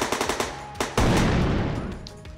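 Rapid bursts of assault rifle fire from a video game weapons asset pack, a quick string of loud shots followed by one heavier blast that rings out and slowly decays, with no voices.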